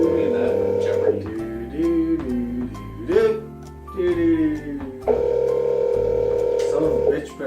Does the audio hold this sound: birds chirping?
no